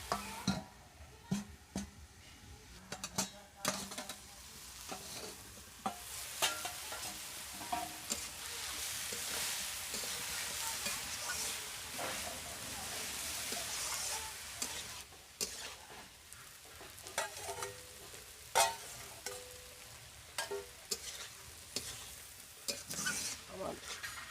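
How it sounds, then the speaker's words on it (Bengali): Cabbage slowly fries in a pan with a lid partly on, a soft steady sizzle carrying frequent clicks and scrapes of stirring, close and fairly quiet, with no voices. "আমি এটাকে ভালো করে আস্তে আস্তে করে ভেজে নিলাম এখন আমি একটুখানি ঢেকে দেবো"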